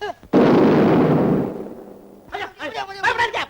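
A cannon fires in an old Tamil film battle scene, one loud close boom that rolls and fades over about a second before someone speaks.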